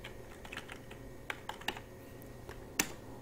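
Scattered keystrokes on a computer keyboard while entering data in Excel, close and soft, irregular taps with one sharper press near the end, no voices.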